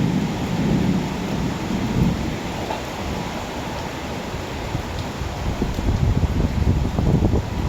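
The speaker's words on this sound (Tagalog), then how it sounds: "Ang lakas ng ulan." Heavy rain pouring down in a dense, steady roar, with low rumbling underneath and gusty surges, no voices.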